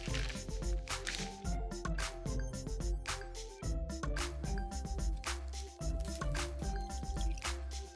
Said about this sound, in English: Pour all the ingredients into the small baggie. 1 cup of heavy whipping cream.